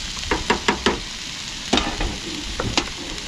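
Food simmers and sizzles in a pan outdoors, a steady bubbling hiss broken by several clinking taps and scrapes of a utensil stirring, close by.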